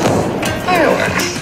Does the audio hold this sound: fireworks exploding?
yes